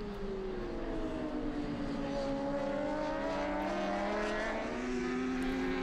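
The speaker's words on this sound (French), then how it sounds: "À l'extinction des feux, Ginès conserve l'avantage de sa pole position" Superbike motorcycles race at the Nogaro circuit, their engines a steady, loud, high-revving drone with pitch sweeping up and down as bikes pass, continuous throughout without speech.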